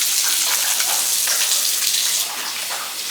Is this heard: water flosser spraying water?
yes